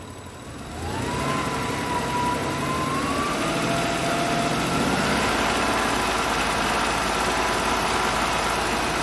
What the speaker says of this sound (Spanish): Déjale a 2000 revoluciones.